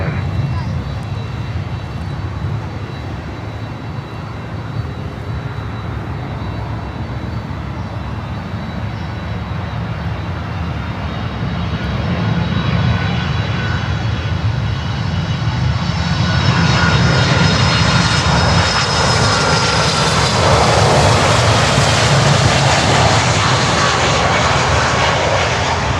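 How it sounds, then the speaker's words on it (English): A DHL Boeing 767 cargo jet arriving at Miami airport produces a steady, broad engine roar that grows louder in the second half as it nears, with faint tonal whine layered over the rumble. "And there's a DHL 767 also coming in."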